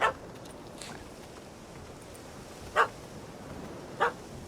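A puppy barks in The Witcher 3: Hearts of Stone, giving three short, sharp yaps spaced a second or more apart, close and clear against faint background ambience.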